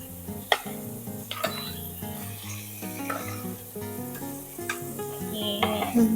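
Onion, butter and carrot stir-frying in a pan, a steady sizzle broken by scattered clinks and scrapes of a utensil against the pan.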